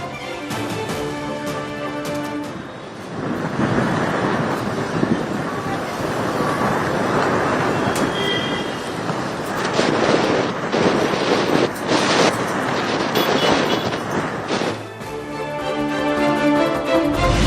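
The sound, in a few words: wind of a dust storm at Chennai Marina beach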